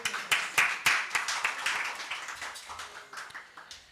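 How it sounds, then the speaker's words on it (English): Audience at a governance conference clapping as a speaker is welcomed on stage, a sparse, fairly quiet patter of individual claps that tapers off over a few seconds. "with a huge round of applause"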